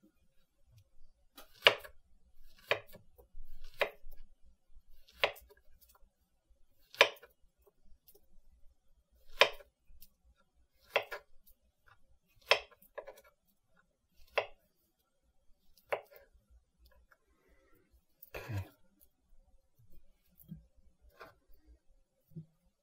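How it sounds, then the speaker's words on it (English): Knife chopping a banana into even slices on a board, about a dozen crisp, separate cuts spaced irregularly, close and clear with no talk. "We're just going to chop it into some regular sizes here, some nice slices."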